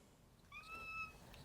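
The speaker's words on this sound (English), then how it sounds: "My cat's coming in." A cat meows indoors, one drawn-out tonal call of about half a second, fairly close and clear over a quiet room background.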